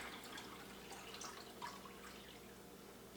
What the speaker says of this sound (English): we pour water into the top filter